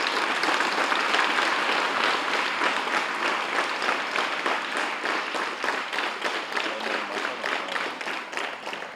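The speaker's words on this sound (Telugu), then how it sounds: "ఈ స్కూల్కి క్లాప్స్, గట్టిగా క్లాప్స్," School students applaud loudly at a student meditation gathering, a dense, sustained burst of clapping that stays strong for the whole stretch and eases only slightly toward the end, with no talking over it.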